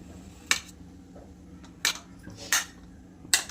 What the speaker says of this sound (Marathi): आमटीसाठी बटाटा कापून घेऊयात आता